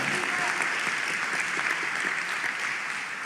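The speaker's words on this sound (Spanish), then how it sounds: "Denles aplauso al Señor con ganas" A church congregation claps steadily and enthusiastically, a dense wash of applause that holds for a few seconds.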